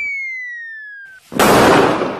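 A Diwali firecracker bomb goes off with a descending whistle, then a single loud, close bang that trails into a broad crackling roar, with no talk.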